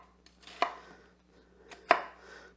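A knife slices down through a vegetable for a springtime green pea salad on a cutting board, giving two sharp, close thunks about a second apart, with faint cutting sounds between.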